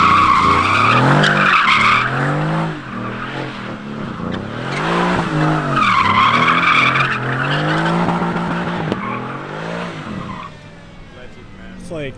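Car tires squealing and skidding on a mountain road, long wavering screeches rising and falling over a revving engine, loud and close, with voices underneath.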